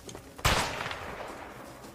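A single loud anti-personnel rifle shot in a video game, one sharp close blast that cuts off and trails into a brief rumbling decay.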